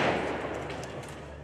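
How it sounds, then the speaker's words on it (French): Firework mortars fired at police outside a police station, heard as a booming blast that decays into a rumbling echo over a second or so, distant and moderately loud with a faint crackle on top. "des mortiers d'artifice détournés de leur fonction initiale"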